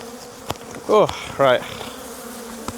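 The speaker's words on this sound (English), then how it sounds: "the flying bees are looking pissed" Angry honeybees swarm around a beekeeper working a hive box, their buzzing rising in two loud close passes over a low steady drone, with someone speaking briefly.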